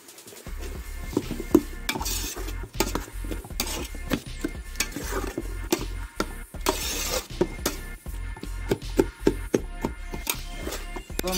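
Onions stirred in a cooking pot while making chicken fry masala, heard as a run of loud, rhythmic metal scrapes and clanks from a spoon against the pot, close and without talk.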